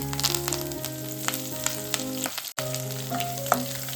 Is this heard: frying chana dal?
yes